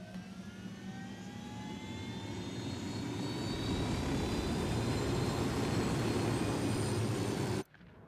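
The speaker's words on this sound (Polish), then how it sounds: "Lecimy tam helikopterem dla odmiany." A helicopter in Ghost Recon Wildlands flies with a continuous, loud engine roar and turbine whine that slowly rise in pitch and swell in intensity, then abruptly drop off near the end; no talk is heard.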